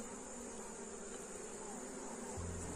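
A calm honeybee swarm hums in a continuous, fairly close buzz during hive splitting and queen rearing, with a low rumble entering near the end.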